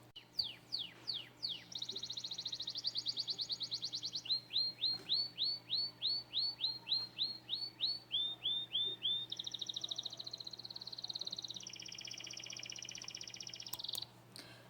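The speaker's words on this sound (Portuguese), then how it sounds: "vocês ouviram aí o som do pássaro" A bird sings close by in long, fast trilling phrases, each made of rapid repeated chirps at steady pitch, changing note from phrase to phrase over a faint hum.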